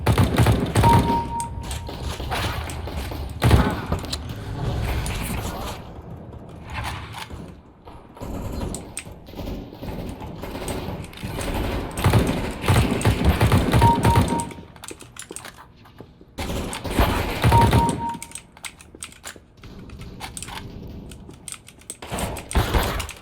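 Gunfire in a video game is played through a 7.1 surround gaming amplifier: bursts of sharp shots and thuds come in rapid clusters with pauses between them, loud and close throughout.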